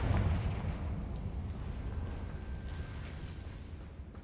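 A Confringo blasting spell explosion in the video game Hogwarts Legacy, a deep booming burst at the start that rumbles and fades over a few seconds.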